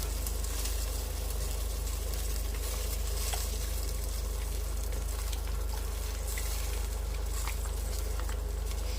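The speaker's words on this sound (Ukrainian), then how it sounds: "Ось так закипає, додаємо кетчуп." A steady bubbling sizzle from a pot of marinade boiling on the stove, continuous and fairly close, with a constant low hum underneath.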